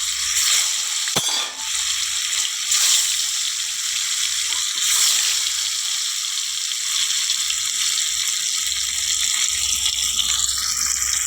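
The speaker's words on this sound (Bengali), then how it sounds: "তো চলো প্রথমে মাছগুলো ভেজে নিই।" Katla fish pieces sizzle loudly in hot, reused oil in a wok, a steady close crackle and hiss that runs throughout, with a brief clack of a utensil early on.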